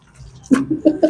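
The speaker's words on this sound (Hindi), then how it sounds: "अब हम इसमें पानी ऐड कर देंगे" Water poured a little at a time into macaroni pakora batter, giving a few close, short splashy gurgles in separate bursts after a quiet start.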